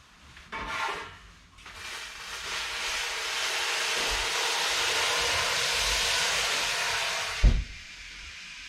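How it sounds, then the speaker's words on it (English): A steady hiss of steam from just-boiled water in a hot Everhot oven rises after a couple of brief clunks while baking bread, holding for several seconds before a sharp knock ends it. "So the steam is going to help to keep the outside crust a little bit soft"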